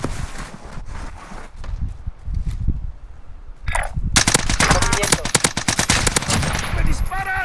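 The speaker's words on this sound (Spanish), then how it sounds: "¡Me disparan!" Video game firefight with bursts of machine gun fire and scattered gunshots, loud and rapid, growing into sustained automatic fire in the second half; a player talks excitedly over it.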